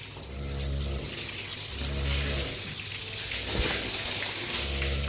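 Water is sprayed and splashed over cows, Kapila among them, as they are bathed. A continuous, close rushing splash runs throughout over a low droning hum that pulses on and off.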